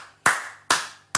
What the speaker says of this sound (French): Oh, applaudissons.